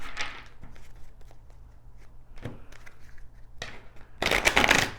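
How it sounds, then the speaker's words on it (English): Tarot cards shuffled by hand in several short bursts, with a louder, dense riffle near the end; no talking. "I'm just going to do 3 shuffles."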